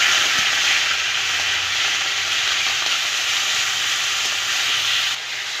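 Half-broken onion pieces dropped into hot mustard oil with bay leaf and whole cumin sizzle loudly and steadily in a pan, a close, continuous hiss that eases slightly near the end.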